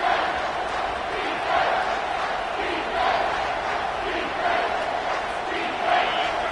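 A home crowd at an American football game roars steadily on third down as the defense tries to get off the field, a broad, sustained wash of distant cheering and yelling that swells in waves, with no clear talk.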